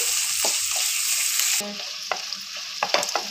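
Ginger garlic paste fries on a stove over low heat with a steady hiss, the sizzle dropping a little partway through, while a spoon stirs and scrapes the pan in a few short knocks.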